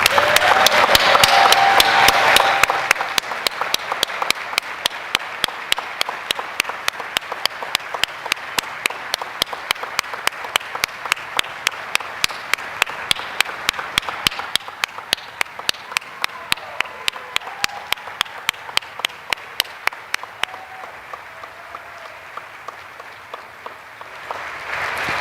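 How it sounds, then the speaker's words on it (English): Sustained audience applause at a grade 8 recognition ceremony for a class of 86 eighth graders, loud and dense at first, then thinning into steady clapping that fades toward the end. "so that the audience can give you a round of applause."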